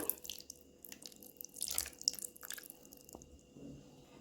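Raw mustard oil is poured into bhetki fish paste for paturi, making quiet, close wet drips and soft glugging trickles with short pauses, with no voices.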